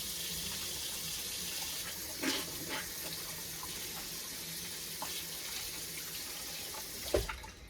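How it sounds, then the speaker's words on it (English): Water runs steadily from a kitchen sink tap while hands are washed, a continuous broadband hiss at moderate level with a few brief splashes and clunks near the start and end. "I'm just going to wash my hands really quick."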